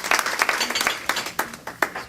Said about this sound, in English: Give yourselves a round of applause for bearing through the Chicago weather to make it here.